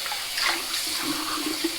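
Water runs and splashes steadily for soaking a boar-bristle shaving brush in hot water, a close, moderate trickle from a tap or basin with no speech.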